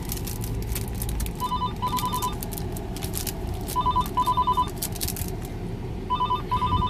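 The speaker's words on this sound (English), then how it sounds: "I'm not answering that phone," A telephone rings in short repeated electronic bursts, two trills close together and then a pause, heard in a busy shop with a steady crowd murmur and noise underneath.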